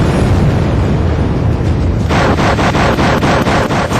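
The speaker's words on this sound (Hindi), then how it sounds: "हिंदुस्तान ने बोफोर्स तोपों का मुंह पाकिस्तान की तरफ खोल दिया" Heavy Bofors artillery guns firing shell after shell: dense, continuous rumbling booms with a burst of several sharp, rapid blasts in the second half, loud and without speech.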